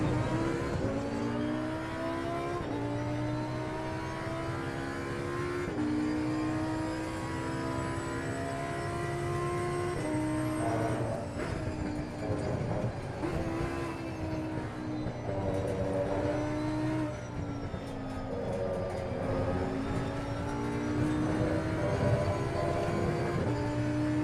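A Lamborghini Huracan Evo 2 in the Assetto Corsa Competizione racing game revs and pulls through the gears, its tonal engine note rising and dropping repeatedly at a steady, loud level with no talking.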